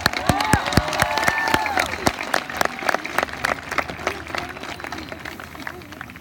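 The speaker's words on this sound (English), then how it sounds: "How about a round of applause for us, Woodland High School class of 2018" A crowd applauds a graduating high school class of 2018, with dense clapping and some cheering. Voices are audible in the mix, and the sound slowly fades toward the end.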